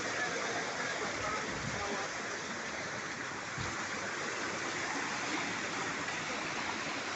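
Fresh spring water flows over mineral-rich stones at a hidden mountain source, making a continuous close babble and rush that stays steady throughout without voices.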